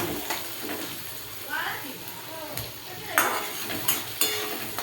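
Onion frying in a pan until reddish-brown, on a lowered gas flame, gives a steady moderate sizzle with intermittent scraping stir clicks and light utensil taps close by.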